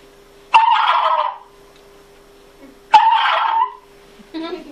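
A human voice imitates a wild turkey's gobble, giving two close, loud, warbling bursts separated by a pause, followed by a shorter trailing call.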